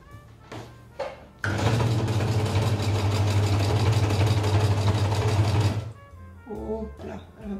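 A 25-year-old sewing machine runs in one continuous burst of about four seconds as it stitches a small closing seam on a fabric barrier mask. The motor gives a loud, steady, buzzing whir, with brief quieter sounds just before and after.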